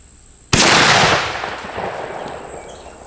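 A Marlin 1895 CBA lever-action carbine in .45-70 fires one loud, sharp shot outdoors, a sudden blast that decays into a long rolling echo.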